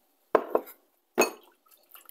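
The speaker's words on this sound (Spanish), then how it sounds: "Limpiamos bien nuestro vaso y vaciamos" A glass blender jar is handled while being rinsed and emptied during preparation of adobo sauce for pork ribs, giving three short clattering knocks, two close together and one after a pause, with no talk.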